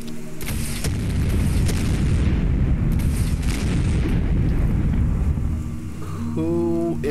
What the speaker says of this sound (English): if that's a missile launcher and a heavy machine gun, that could be super mutants.